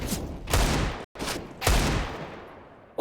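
Gunfire in the Counter-Strike game on the Anubis map, with sharp, heavy bursts that could include a Desert Eagle shot or a flashbang. The loud blasts come in several close separate pulses with no talking.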